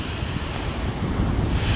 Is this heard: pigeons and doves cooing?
no